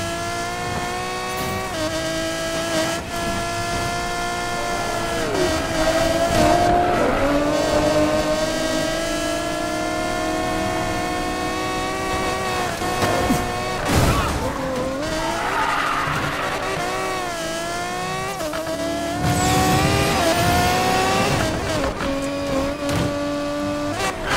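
Race cars in Need for Speed Payback during an Outlaw's Rush race: loud engines rev and whine through gear shifts, with repeated tire squeals and skids as the cars corner, no talking.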